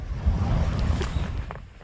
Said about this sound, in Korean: 물소리가 아주 시원하게 들리네요